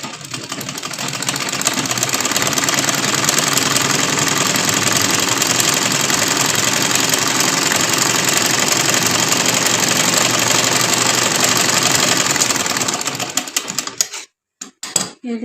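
Sewing machine stitching piping, a loud steady motor whir running continuously for most of the stretch before stopping abruptly near the end, with no talking.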